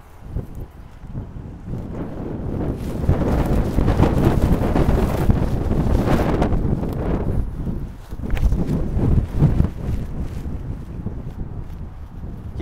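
Strong wind buffets an outdoor microphone in steady, loud gusts that rise and dip, with a brief lull near the eighth second, and no voices.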